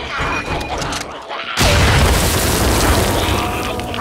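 Grenade explosion in the zombie video game Contagion: a single loud, close boom that bursts in suddenly and trails into a long, noisy rumble after quieter background sounds.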